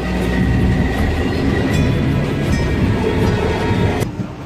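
Train rolling east through the Mojave Desert, heard as a loud, continuous rumble of wheels and cars with a steady rattle, close by, before cutting off abruptly near the end.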